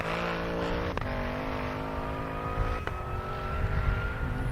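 A drag racing car accelerates down an airstrip in a half-mile event, its engine a steady, sustained drone with a rising tone, heard from a distance amid open-air ambience.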